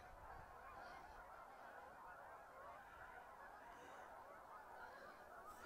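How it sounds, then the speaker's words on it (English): A flock of migrating geese honks in the distance over open prairie in autumn, faint scattered calls rising above a steady wind-like outdoor hiss, with no one talking. "Laid on a whole flock of geese just for you."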